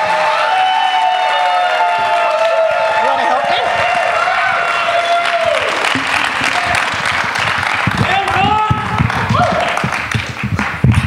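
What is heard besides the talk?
audience applause at a live event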